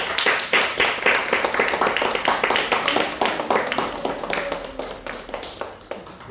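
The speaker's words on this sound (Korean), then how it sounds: "박수로 한번." A church congregation claps together in a dense, fairly rhythmic burst of applause lasting several seconds, moderately close and gradually thinning toward the end.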